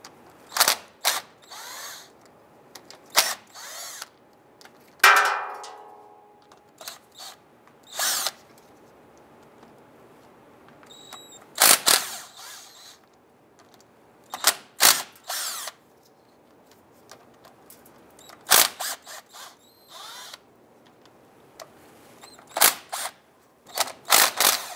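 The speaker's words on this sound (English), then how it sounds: "Using our half-inch socket, we want to go ahead, loosen and remove our differential cover bolts" A power tool drives a half-inch socket to loosen the differential cover bolts on a 2002-2008 Dodge Ram 1500. It comes in short, loud, separate bursts of whirring and ratcheting spread across a quiet workshop, with brief mechanical clicks between them.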